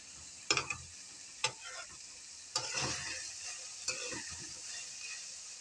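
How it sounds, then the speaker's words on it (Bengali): Soybean chunks sizzle steadily as they fry in a pan, broken by several crisp knocks and scrapes of a utensil stirring them at irregular intervals, heard close with no talking. "দেখুন বন্ধুরা, সয়াবিনটা আমার ভাজা ভাজা হয়ে যাচ্ছে।"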